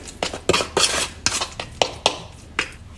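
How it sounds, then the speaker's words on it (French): Avocado being mashed in a bowl, probably with a fork, giving repeated scraping and clinking taps at an irregular, steady pace, close and moderately loud, with no talking. "Là, je suis en train d'écraser de l'avocat."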